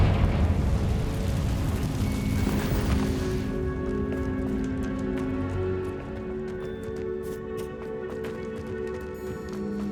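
Confringo blasting spell from Hogwarts Legacy erupts in a loud, broad explosive burst for the first few seconds inside a cave, then dies into a long rumbling tail with a lingering tonal hum.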